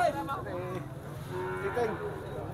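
A carabao, or water buffalo, lows at a livestock market in Bacong, a drawn-out moo at moderate distance amid faint crowd murmur.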